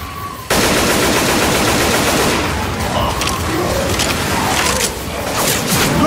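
Loud, sustained automatic gunfire in Left 4 Dead 2 while shooting zombies, dense rapid bursts starting abruptly and continuing without a break, close and dominant, with faint game effects underneath.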